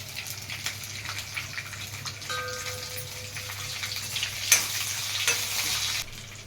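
Oil sizzles and crackles steadily in a pan, with a brief louder burst of spattering as green chillies and asafoetida go in, no voices present.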